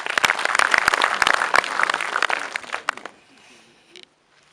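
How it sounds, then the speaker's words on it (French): An audience at a season presentation event claps loudly with sharp, distinct hand claps for about three seconds, then the applause drops off abruptly to near silence with a faint voice in the background. "mais qu'on peut applaudir"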